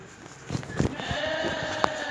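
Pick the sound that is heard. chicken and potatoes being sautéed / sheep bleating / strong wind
sheep bleating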